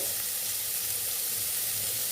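A steady, hissing sizzle of bitter gourd and green chillies frying in oil, continuous and close, with no voices.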